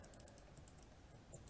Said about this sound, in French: c'est juste ton clavier en fait